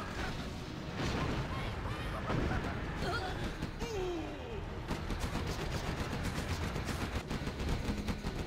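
Anti-air guns in the Generals Zero Hour strategy game fire in rapid, steady bursts under a match commentator's continuous talk, with booms and battle clatter mixed in.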